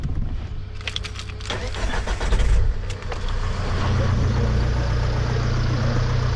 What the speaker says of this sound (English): but let's start the engine.